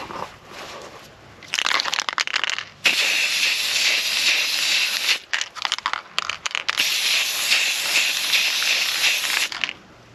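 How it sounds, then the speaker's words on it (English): An aerosol spray paint can hissing yellow paint onto a paving slab outdoors, close and loud, in two long bursts with a few short sputters and pauses between them. "Now, let's give it a little spray."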